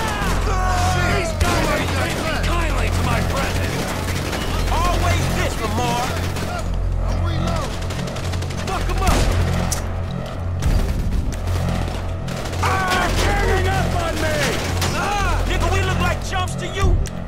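Gunfire in Grand Theft Auto V, with bursts of rapid shots and booms in a chaotic firefight over game music, and someone talking excitedly throughout.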